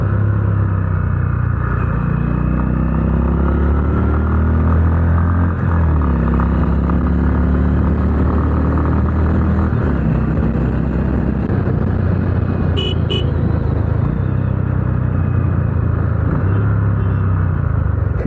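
A Honda Highness CB350 motorcycle engine drones loud and continuous while riding on the road, a deep steady rumble with wind buffeting and slight rises and dips in revs, no talk.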